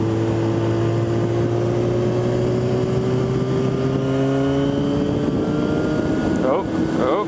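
A motor vehicle engine drones steadily and shifts pitch as it speeds past in traffic, heard from a moving motorcycle with wind noise, with a voice speaking briefly near the end.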